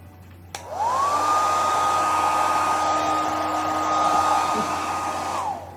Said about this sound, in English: I'm going to use a blow dryer.